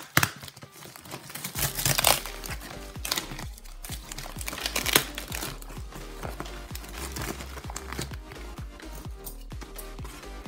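Thick, well-wrapped packaging being torn and ripped open by hand, with bursts of crinkling and tearing, loudest around two and five seconds, followed by steadier rustling and handling.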